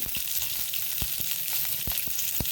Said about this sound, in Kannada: ಹಾಗೂ ಶುಂಠಿ ಇಷ್ಟನ್ನು ಚೆನ್ನಾಗಿ ಫ್ರೈ ಮಾಡಿಕೊಳ್ಳೋಣ